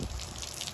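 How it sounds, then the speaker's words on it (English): Warm water sprayer running steadily during a Samoyed puppy's grooming, a continuous hissing gush of spray at moderate level with no talk. "So this sprayer, we have nice warm water here."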